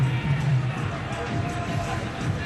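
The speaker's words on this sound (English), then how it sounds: "Very healthy crowd in at Jalan Besar, and it's a decent atmosphere." Healthy crowd filling the stands at Jalan Besar Stadium for a 2008 S.League football match between Singapore Armed Forces FC and Home United, a steady distant murmur of voices and low rumble throughout.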